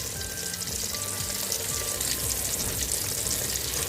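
Steady, dense sizzling of salted fish frying in hot oil, continuous and close, with no voices.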